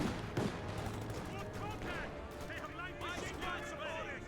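Gunfire and light infantry gun shots in Company of Heroes 2, an OKW versus USF match, sound as scattered distant pops and bursts under continuous commentator talk.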